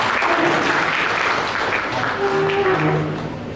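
At a college farewell ceremony for accounting students, the audience gives a brief burst of steady, close applause to welcome the vice-principal, which fades slightly at the end.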